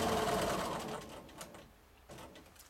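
A sewing machine doing free motion quilting stitches along the edge of quilted fabric, a fast close run of stitching that slows and fades, then a brief second burst.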